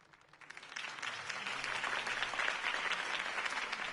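A crowd applauds after a campaign speech in the Batman Telltale video game. The clapping starts faint, swells within the first second and holds steady as dense, sustained applause.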